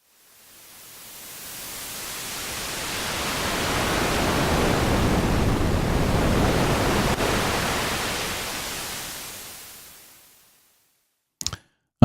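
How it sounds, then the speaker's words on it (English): A Virus TI synthesizer plays a noise pad with modulated noise volume, a broad hiss swelling up from silence, holding loud, then fading away, followed by two brief clicks. "I'm also going to modulate noise volume twice"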